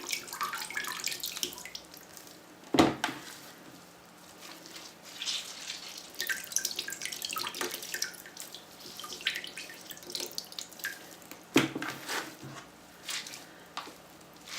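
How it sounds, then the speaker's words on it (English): Excess water is squeezed by hand from a ball of paper clay pulp, falling back into a container of water, with irregular trickling, splashing and dripping close by, plus two sharper wet slaps. "squeeze the excess water out"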